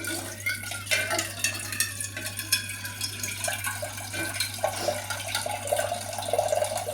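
Water runs and splashes steadily as it is poured into a cooking pot for khichdi, a continuous liquid rush with a low steady hum beneath and no talking.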